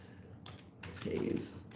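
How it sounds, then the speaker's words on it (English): Typing on a computer keyboard, quick clustered key clicks close by with a speaking voice partly over them. "I'm about to do some typing."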